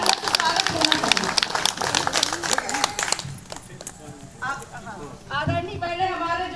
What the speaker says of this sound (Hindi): सभी की इच्छा हो तो जोरदार तालियों से स्वागत होना चाहिए